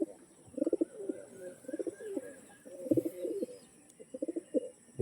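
Pigeons at a home breeding loft coo in several repeated rumbling bursts, fairly close but quiet, with short pauses between phrases.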